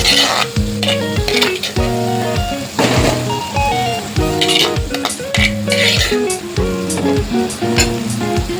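Dry fish being stirred through sizzling masala in a pan gives a loud, continuous fry with repeated spoon scrapes and clinks, set against background music and no speech.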